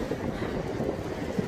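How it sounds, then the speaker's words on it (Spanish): A tram rumbles past on a bridge over a canal, a steady close rolling roar with faint rail clatter and wind buffeting the microphone, no talking. "Acaba de pasar un tranvía."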